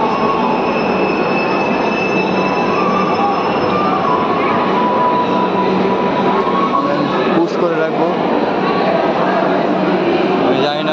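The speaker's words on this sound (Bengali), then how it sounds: "আমি মেট্রো স্টেশনে প্রবেশ করেছি এখন।" A Kolkata metro train in a station, with a continuous loud rumble and squealing wheels sustained throughout, plus faint background voices underneath.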